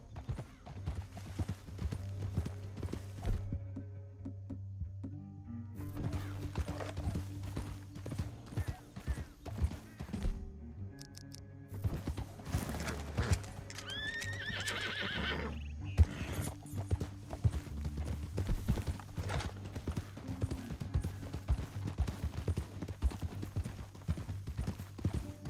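Horses ridden in Red Dead Redemption 2, a continuous rhythmic clip-clop of hooves with occasional creaks of tack, a brief whinny, and some faint voices talking now and then, all fairly quiet.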